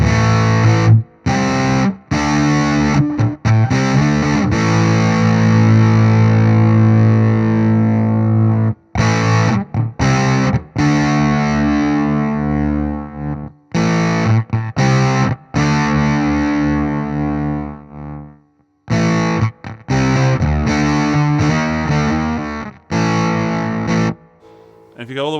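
Electric guitar run through an EHX Ripped Speaker fuzz pedal with the fuzz set midway, playing loud, thick distorted chords and riffs in repeated bursts separated by short silences.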